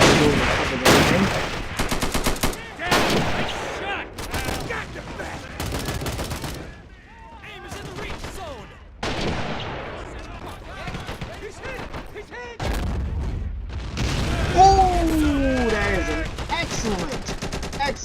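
Artillery blasts and rapid gunfire from a war video game battle at Pork Chop Hill, with repeated loud bursts, machine-gun rattles and explosions, some near and some distant, with voices shouting intermittently.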